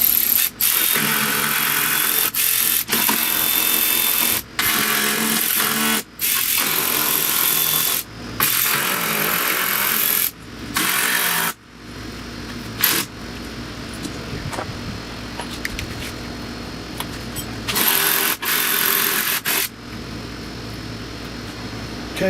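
A ratchet works 10 mm bolts loose on a Dodge Grand Caravan during an alternator job, with bursts of quick clicking broken by short pauses, then quieter handling and shop noise later on.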